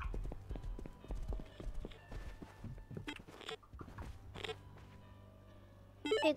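Hooves clop in a quick uneven rhythm in the video game Rust, fairly close, with a few soft voices and small clicks around them.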